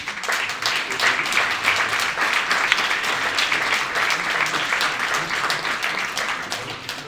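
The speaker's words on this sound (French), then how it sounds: "je vous propose de les applaudir." Sustained applause from a room of people at a municipal council meeting, steady and fairly loud throughout, with no voices standing out.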